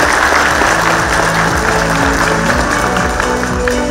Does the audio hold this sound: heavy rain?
no